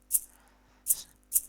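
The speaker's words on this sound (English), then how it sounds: "and then my shakers" Shakers in an FL Studio Afro beat: three short, bright hissing shakes, soft and isolated, with quiet gaps between them.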